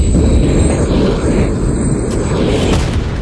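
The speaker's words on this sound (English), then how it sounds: "Shit, grenade." A grenade goes off in Call of Duty: Modern Warfare 3, a loud, deep rumbling blast that fills the whole stretch with dense low-end roar and sustained boom, no voices present.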